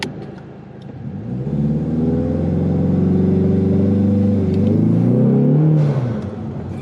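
A Ford Mustang with a 10R80 transmission holds a loud, steady rev on launch control, engine rising and sustained for several seconds before easing off, close and alone without talk.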